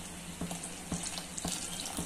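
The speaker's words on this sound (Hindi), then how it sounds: "अब हम इसमें डालेंगे इमली का पानी" Tamarind water is poured into a pot of cooking lentil dal, making a continuous trickling splash with a few louder sloshes. It sounds close and runs without speech.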